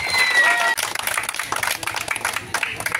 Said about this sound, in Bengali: সবাই হাততালি দিন, হাততালি দিয়ে আমাদেরকে উৎসাহিত করুন।